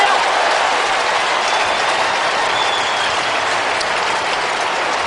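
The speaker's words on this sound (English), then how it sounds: "There was an enormous Bronx cheer then from the Melbourne fans when Melbourne actually kicked the ball." A Melbourne football crowd at the MCG roars in a broad, steady, distant wash of noise for several seconds without a break.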